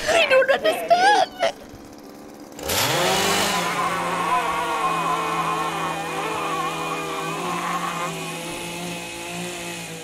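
A chainsaw in the game Jazzpunk roars to life after a short high-pitched jingle, then drones steadily at close range for several seconds while a person talks over it.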